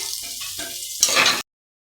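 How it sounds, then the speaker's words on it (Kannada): Ingredients for sambar frying in oil give a short, close sizzle with a stirring scrape, swelling into a brighter hiss before cutting off abruptly. "ಎಣ್ಣೆಲಿ ಮತ್ತೆ ಫ್ರೈ ಮಾಡ್ಕೊತೀನಿ"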